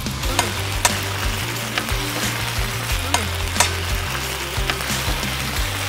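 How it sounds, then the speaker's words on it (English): Vegetables stir-fried over a camp stove at a winter campsite in Tahoe National Forest give a loud, steady sizzle, broken by regular clinks and scrapes from the stirring utensil. "stir fried veggies"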